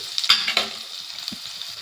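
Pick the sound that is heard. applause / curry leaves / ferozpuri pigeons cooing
curry leaves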